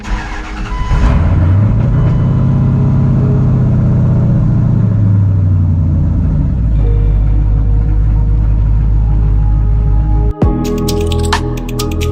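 A Dodge Dakota R/T with a loud exhaust idles and revs up close, the engine rising and falling in a deep, heavy drone before a sharp break and a steadier run near the end.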